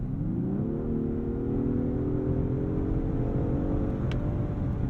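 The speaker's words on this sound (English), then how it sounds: "I like the sound of that twin-turbo V6." A 2023 Genesis G90 twin-turbo V6 car engine hums steadily and rises in pitch as it revs up, a smooth sonorous drone held close and loud throughout.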